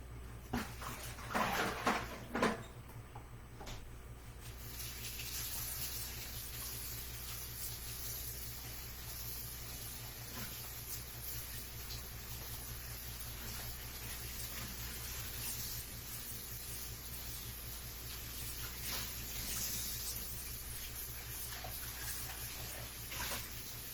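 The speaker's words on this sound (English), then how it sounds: "And I'm going to wash that pan." A pan is washed under a running tap in a home kitchen. The water flows in a steady, fairly quiet rush throughout, with clattering handling of the pan early on.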